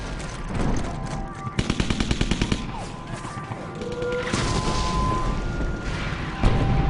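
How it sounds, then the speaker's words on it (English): Battle sounds of World War II fighting near a hill town, with a rapid burst of machine-gun fire followed by heavy rumbling shelling and booms, loud and continuous across the scene. "they come under heavy shelling"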